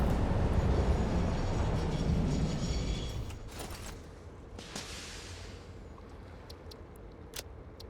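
A self-driving train in the video game Satisfactory rumbles along, loud and dense at first, then thins to a quieter mechanical hum with a few sharp clicks and clanks toward the end.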